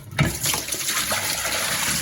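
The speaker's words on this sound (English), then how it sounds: "I'll actually generally slush it down a bit and knock off the water" Water splashes and pours out of a film developing tank in a continuous gushing stream after a short thump at the start, fairly close and loud.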